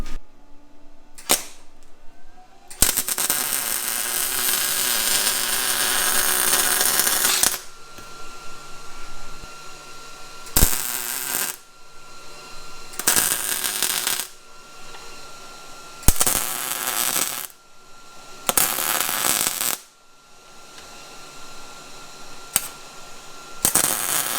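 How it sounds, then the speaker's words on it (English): A tie rod is welded, with one long harsh crackling burst followed by several shorter buzzing bursts separated by brief quiet gaps, close and loud. "Now I'll just weld those up and we should be good."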